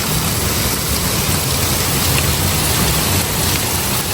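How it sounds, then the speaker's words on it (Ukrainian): Steady rain pours over a garden plot, a loud dense continuous hiss of drops on surfaces with a faint low rumble beneath, and no one speaking. "гарний дощик, хай йде."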